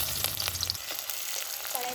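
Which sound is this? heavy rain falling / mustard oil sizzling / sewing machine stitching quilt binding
mustard oil sizzling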